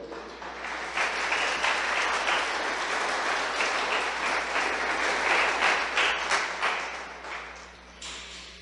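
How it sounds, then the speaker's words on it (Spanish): A church congregation applauding, a broad rolling clatter of many hands that swells in the middle and fades toward the end, with no talking over it. "¿Cuántos dan un aplauso al Señor?"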